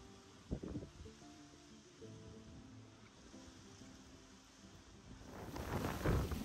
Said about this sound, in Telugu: గట్టిగా అయితే గాలి అది వేస్తుందండి